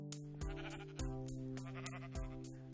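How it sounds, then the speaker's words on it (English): Baby sheep in a Minecraft ore sheep mod bleating in short game-sound calls, four distinct bleats spaced roughly half a second to a second apart, fairly loud and alone. "Now we have a baby diamond sheep."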